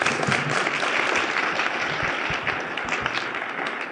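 An award ceremony audience applauds with dense, sustained clapping from a large crowd, steady and full with no voices on top.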